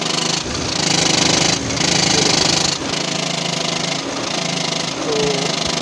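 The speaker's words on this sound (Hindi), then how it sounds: "देख लो इतनी भयंकर आवाज़ है ना, ऐसा लग रहा है कि कुछ इंजन में खुल गया" Loud, harsh abnormal engine noise from a VW/Skoda car with a faulty DSG transmission flywheel, a steady close rattling drone that dips briefly several times, with no talk.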